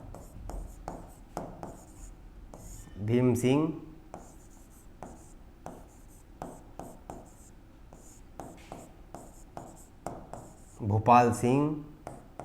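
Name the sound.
writing on a board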